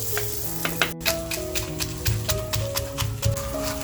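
Chopped onion sizzling in a hot pan, a steady dense frying hiss throughout with clicks of stirring, heard over faint background music.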